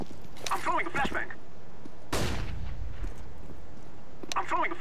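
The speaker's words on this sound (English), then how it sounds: "I'm throwing a flashbang." A flashbang grenade goes off in CS:GO, a loud sudden burst that decays over about a second, with game voice chatter and background action before and after.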